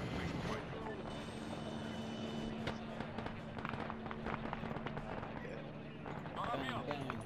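Military helicopter in the video game Arma 3, in a Soviet-Afghan conflict scenario: a steady, loud engine and rotor drone runs throughout, with sharp clicks and thumps on top and voices talking over it.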